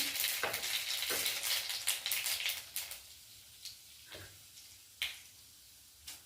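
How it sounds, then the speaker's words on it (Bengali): Half a spoonful of cumin seeds hits hot oil in a pan during Bengali cooking, giving a bright close sizzle that crackles loudly at first, then settles into sparse pops and spits. "তেলটা গরম হয়ে গেছে ফোরনে একটু জিরে দিয়ে দেবো"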